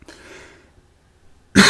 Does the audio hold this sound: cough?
yes